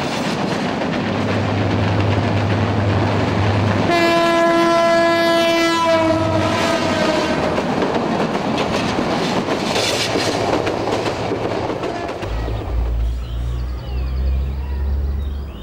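A moving train rattles along loudly with steady clickety-clack, its horn blaring in a long sustained blast partway through, then the rumble continues with lower droning tones toward the end.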